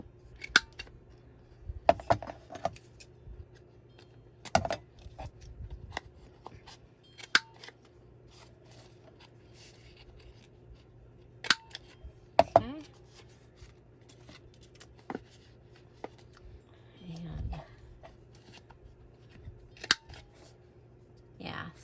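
Paper corners being rounded for a journal, a series of sharp, close clicks and snips at irregular intervals with soft paper rustling and handling between them, and faint talk at times.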